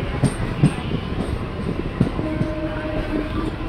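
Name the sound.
goods train on the main line overtaking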